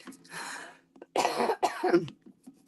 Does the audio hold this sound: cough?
yes